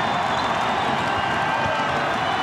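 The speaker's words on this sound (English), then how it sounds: "Listen to this crowd." A home basketball arena crowd at a 1997 Wake Forest versus Maryland college game keeps up a dense, continuous roar of cheering and clapping, heard at a distance with no clear voice on top.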